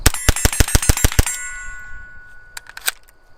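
A rifle fitted with a CMMG Bravo .22LR conversion kit fires a rapid string of about eight sharp, ringing shots, then falls quiet before two more faint metallic clinks.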